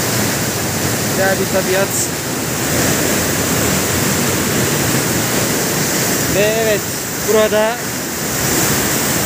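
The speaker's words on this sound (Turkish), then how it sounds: "şelalenin son kısmı döküldüğü yer büyük bir dev kazanı oluşturmuş durumda. Çok gürültülü bir şekilde akıyor." Loud, steady roar of Samandere waterfall in Düzce pouring into a large plunge pool, a constant dense rush close by, with someone talking over it.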